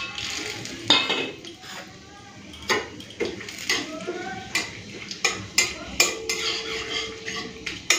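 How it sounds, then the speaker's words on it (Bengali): Whole garam masala spices and bay leaves fry in hot ghee in a pan for pilau, with a soft sizzle under repeated metallic clinks and scrapes of a stirring spoon. "এরপরে গোটা গরম মশলা আর তেজপাতা দিয়ে দেবো"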